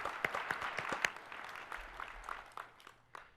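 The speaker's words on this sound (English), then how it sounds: "Can I get a round of applause for the Helm contributors?" Scattered clapping from a keynote audience at KubeCon US 2019, sparse distinct claps thinning out over a few seconds, fairly faint and distant.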